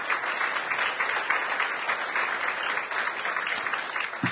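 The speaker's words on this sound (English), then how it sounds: "Let's give them a round of applause." Steady audience applause for a sponsor at an agricultural forum luncheon, a dense wash of many hands clapping at even loudness throughout.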